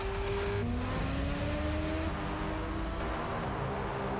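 A Ferrari F40 drives in the video game Test Drive Unlimited Solar Crown, its engine a steady loud drone under a rising tone that shifts as it changes gear, with no talk.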